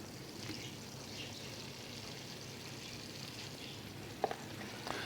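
Onions frying in butter in a pan for risotto, a faint, steady, even sizzle with a couple of small clicks near the end, no voices.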